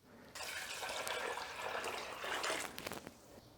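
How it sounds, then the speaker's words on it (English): Water pours steadily into a cooking pot for a few seconds, a close, rushing splash that starts abruptly and tapers at the end. "Then you're going to put 2 quarts of water"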